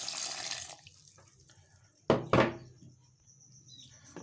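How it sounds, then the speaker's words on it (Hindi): Water is poured into a strawberry kulfi mixture, a brief close trickle at the start followed later by two splashy pours into the bowl, with no talking. "और अब इसके अंदर हम शामिल करेंगे 1 कप पानी"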